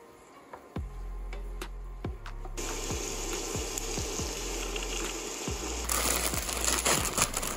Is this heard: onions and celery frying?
yes